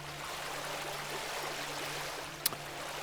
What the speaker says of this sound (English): We've got a lovely river here.